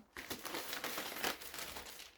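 A plastic bag crinkles and rustles while two kilograms of flour are packed into it. The close, continuous crackling runs for about two seconds with no talk.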